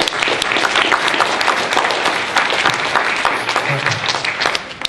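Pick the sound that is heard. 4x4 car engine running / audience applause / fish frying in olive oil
audience applause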